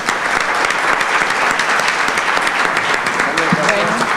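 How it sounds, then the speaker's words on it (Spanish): Audience at a panel event bursts into steady, dense applause that fills the room from start to finish, with faint voices mixed in beneath the clapping. "Aplausos para ustedes."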